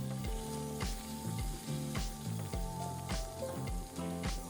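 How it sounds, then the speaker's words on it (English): Shrimp crackle and sizzle loudly in a hot pan, a constant frying hiss with music playing underneath. "We just got done flipping the shrimp. Check that out. Almost done, almost ready. Get that bad boy sizzling."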